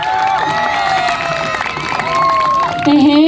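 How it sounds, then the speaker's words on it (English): Audience applause and cheering for an artist at a live event: a loud, steady crowd wash running the whole time, mixed in with sustained music and voices. "A big round of applause for her again one more time."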